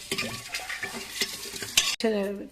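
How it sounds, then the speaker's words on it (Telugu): A spoon stirring jaggery panakam with cardamom powder in a metal vessel, giving quick, close scraping and clinking sounds with a sharp knock near the end. "మనము పానకాన్ని ఈ విధంగా కలుపుకోవాలి"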